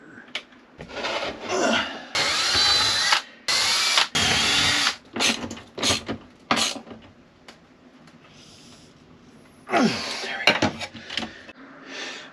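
A power drill drives 3/8-inch lag screws into a vehicle floor, in repeated loud bursts of whirring broken by short pauses and handling clatter.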